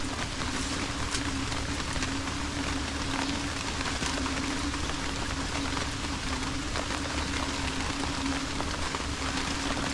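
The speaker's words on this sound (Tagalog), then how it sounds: "Mamayok po ang ulan." Light rain falls steadily near a hut during a harvest, a constant even patter with a faint low hum beneath and no voices.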